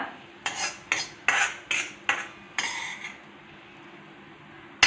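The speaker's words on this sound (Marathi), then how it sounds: "आता सर्व कांदा मी डिशमध्ये काढून घेतलेला आहे" A metal spoon scrapes and knocks against a pan while fried onion masala is scooped into a dish, about seven sharp, evenly spaced clinks close by, then a quiet pause before one last tap.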